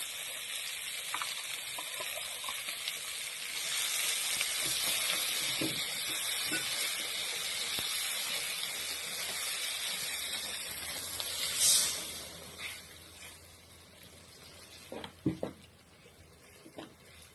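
Bitter gourd fries in a pan with ground coconut paste, making a continuous hiss and sizzle that swells in the middle. Near the end a few sharper clinks and stirring noises break through.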